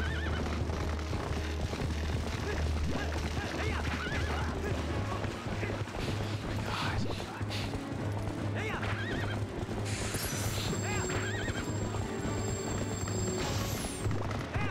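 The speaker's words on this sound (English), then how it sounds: "soon my horse will be able to go fast" A horse whinnies loudly while hooves clip-clop in a quick gallop in The Legend of Zelda: Twilight Princess, backed by game music and effects, with a high electronic tone near the end.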